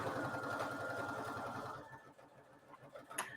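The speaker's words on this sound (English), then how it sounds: "So I'm just stitching down this edge." A sewing machine runs a straight stitch at 3.0 length along the edge of a fabric key fob, giving a steady, close mechanical whir with rapid regular pulsing that stops partway through, leaving quieter handling noises.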